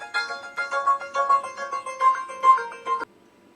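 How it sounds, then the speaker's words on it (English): A mobile phone ringtone plays a bright, repeating electronic melody in short pulsing phrases for about three seconds, then cuts off abruptly, loud and close with no talking. "Hold on. That's my phone."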